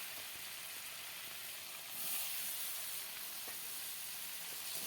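Small fish dropped into hot spiced oil, a steady bright sizzle that swells louder partway through and keeps hissing evenly, close and alone.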